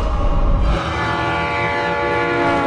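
A train rumbles past while its horn sounds a long, steady blare, loud and close, with the low rolling noise of the cars beneath it.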